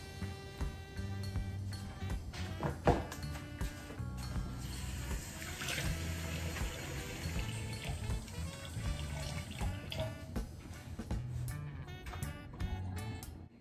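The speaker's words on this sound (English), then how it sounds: "you can just add a little bit of water because you don't want the fish to fry" Water is poured into a pan to steam Jamaican fish, with clatter and sizzling-like liquid noise in a home kitchen: faint trickling and splashing over several seconds, broken by a few sharp knocks, with no talk.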